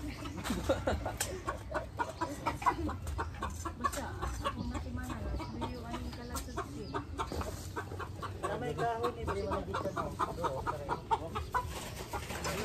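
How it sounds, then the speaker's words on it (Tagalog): Chickens cluck steadily in a farmyard, with short clucks and squawks repeating throughout over a busy background, and a rooster now and then. Voices can be heard faintly at times. "Manok."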